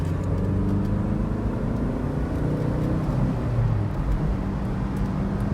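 A Mk1 Vauxhall Astra GTE's 1.8 engine pulls hard from inside the cabin, a deep, steady drone with low rumble and road noise, no talking over it.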